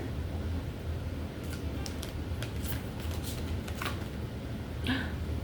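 Tarot cards being shuffled by hand in a quiet room, a steady papery riffle and slide that comes in short bursts over faint background hiss, with no voices.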